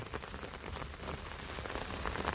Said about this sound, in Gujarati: ને વરસાદ ઝરમર ચાલુ છે મિત્રો